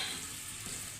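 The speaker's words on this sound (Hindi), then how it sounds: "और अच्छे से प्याज को फ्राई करेंगे पहले तकरीबन 5 से 6 मिनट तक।" Sliced onions frying in a pan for an aloo matar curry, a dense continuous sizzle and crackle at steady loudness throughout, close and with no voices.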